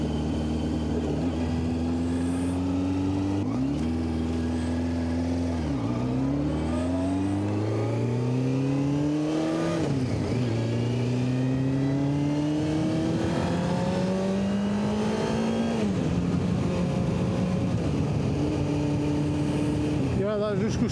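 A sports car engine revs repeatedly on a countryside road, with several rising and falling pitch sweeps that hold steady between surges, loud and close throughout over a constant rumble.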